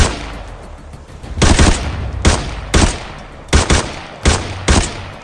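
Several loud gunshots in the video game Arena Breakout ring out at irregular intervals, each a sharp blast trailing into a ringing echo over a steady background hiss.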